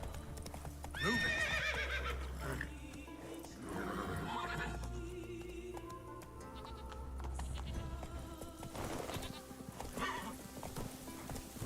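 Roach, the horse in the video game The Witcher 3, gallops with rapid rhythmic clip-clopping hooves and gives a loud whinny, over low in-game ambience and music.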